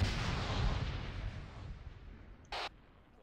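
A demolition charge detonates during a military field training exercise, a loud broadband boom whose rumble slowly decays over a few seconds, followed by a brief crackle of radio static.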